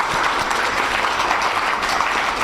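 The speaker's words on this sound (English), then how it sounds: "Another round of applause." Steady audience applause fills a health forum room, with dense, even clapping from many hands running without a break and no voices over it.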